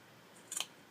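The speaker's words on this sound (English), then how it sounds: "and just snip it off right there." Scissors cut through the fabric of a teddy bear's elf hat, one quick crisp snip close to the microphone in an otherwise quiet room.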